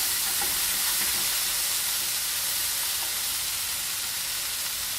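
Onions, tomatoes and browned potatoes fry in a pan for a vegetarian breakfast burrito, giving a constant close hiss and sizzle with faint stirring scrapes underneath, no voices.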